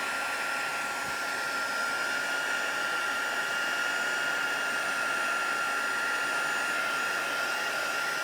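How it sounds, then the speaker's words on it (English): A heat tool blows steadily to melt copper embossing powder on a rustic Christmas card, a constant hissing, fan-driven whoosh held close and even for the whole stretch, with no talk. "So that's it for the heat tool."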